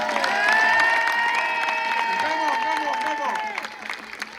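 Crowd at a freestyle competition final clapping and cheering for a DJ, steady applause under sustained tonal sounds, with a voice speaking briefly over it before it thins toward the end.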